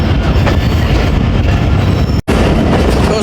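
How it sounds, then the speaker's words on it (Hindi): Baba Fareed Express passenger train on a branch line approaching Bhiari station, heard as a loud continuous rumble of wheels and carriages with a brief cut near the end. "शाम के 6:10 और बिहाड़ी रेलवे स्टेशन पे अप्रोच बनाने लगी है हमारी 38 डाउन बाबा फरीद एक्सप्रेस"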